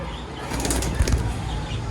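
A pigeon flapping its wings hard as it is released from the hand, a brief close burst of fluttering wingbeats lasting about a second, with faint bird calls around it.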